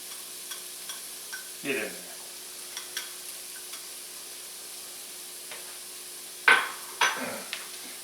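A spoon stirs carrots and yellow onion frying in a pan for pork fried rice, with a soft sizzle and a few scraping strokes. A short spoken remark comes near the end.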